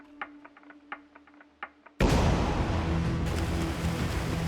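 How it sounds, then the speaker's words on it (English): A start cannon fires at the pre-dawn start of the 2021 IRONMAN World Championship pro men's race, a sudden loud boom that gives way to a sustained roar of crowd and water noise. "The start cannon fires"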